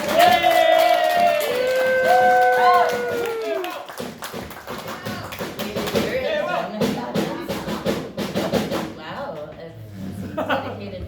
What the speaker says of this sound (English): Please put your hands together and clap with me as we bring to the stage your host